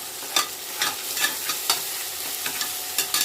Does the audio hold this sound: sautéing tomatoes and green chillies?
yes